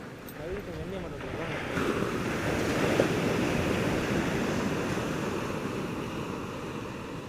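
Rough sea waves wash onto the beach at Pandiruppu near Batticaloa, a continuous, loud churning surf with gusty wind buffeting the microphone while a person talks over it.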